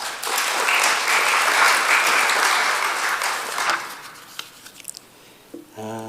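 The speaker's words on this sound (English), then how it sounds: "So please give them a round of applause." A synagogue congregation applauds a committee with loud, full clapping that fades after about four seconds into scattered claps, followed by a brief voice at the end.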